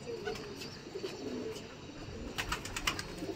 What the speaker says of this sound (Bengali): এই যে পায়রাগুলো উড়ছে আর কিছু নিচের বাচ্চা উড়ছে